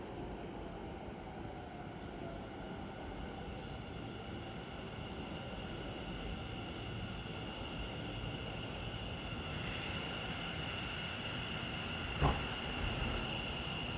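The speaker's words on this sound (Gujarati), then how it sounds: "તો ફાઇનલી ગાઈસ આપણી ટ્રેન છે એ આવી ચૂકી છે" A metro train pulling into a station on the way to Narendra Modi Stadium, a steady broadband rumble and rolling hum that holds evenly throughout, with a brief sharp clack near the end and no talking.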